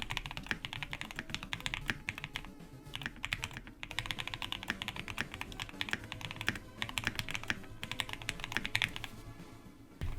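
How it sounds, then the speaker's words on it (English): Steady, rapid typing on a custom mechanical keyboard with smooth Alpaca linear switches, dense overlapping keystrokes continuing throughout without pause, close and clear. "this keyboard's made with alpaca linears"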